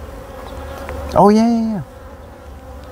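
Honey bees hum steadily around an opened hive during a state bee inspection, a low, continuous drone briefly covered by a man's short exclamation.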